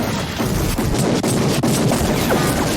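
Blank-firing gun shots in a movie scene, a rapid volley of loud, sharp cracks and crashes that repeat through the moment over dense background noise.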